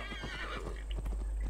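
A horse in Assassin's Creed Valhalla gives a loud, close neigh while its hooves clop briefly beneath it, with no talking.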